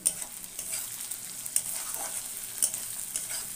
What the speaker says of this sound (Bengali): ভালো করে বেশ কষিয়ে নিতে হবে